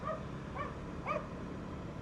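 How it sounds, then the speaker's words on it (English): A dog in a rural neighborhood of small farms in Taiwan barks three times in short, yelping bursts, moderately distant over steady road or engine rumble. "Good morning, dog. Bark at everybody, why don't you?"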